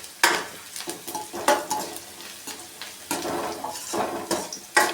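Gobi manchurian cauliflower frying in a pan, a soft sizzle under repeated scraping and stirring strokes of a utensil against the pan, close by.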